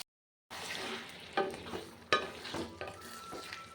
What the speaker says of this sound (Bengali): আর পেঁয়াজ ভাজা হচ্ছে